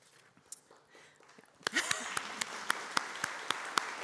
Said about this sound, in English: It does deserve a round of applause.